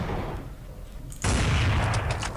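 A grenade in a video game blows open a dirt door with a sudden, loud, close blast after a quieter stretch, leaving a rough, sustained roar and crackle.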